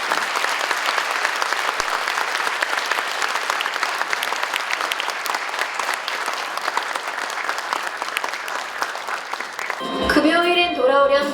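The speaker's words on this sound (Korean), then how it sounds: "자, 따뜻한 박수 보내주시고요." Warm audience applause at a book concert for a memorial book, steady dense clapping from a large crowd filling the whole stretch, with a voice speaking briefly over it at the end.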